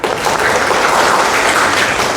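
Audience applause from a seated crowd at a talk, a dense, steady wash of clapping that stays loud and even from start to finish.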